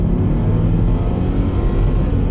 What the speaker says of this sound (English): Second gear. Just tire spin.